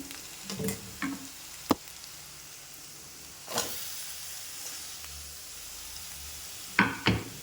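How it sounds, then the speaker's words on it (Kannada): Carrots and capsicum fry in a pan with onions for masala pasta, giving a soft, steady sizzle. A few scattered clatters from stirring rise above it, with no talking. "2 ನಿಮಿಷಗಳ ಕಾಲ ಈ ಥರ ಫ್ರೈ ಮಾಡಿಕೊಂಡ್ರೆ ಸಾಕಾಗುತ್ತೆ"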